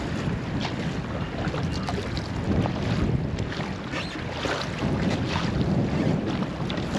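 Strong wind gusting at around 20 knots roars across open water on a small-boat trip near Fairbanks, Alaska, with heavy, continuous buffeting and rushing noise and no voices.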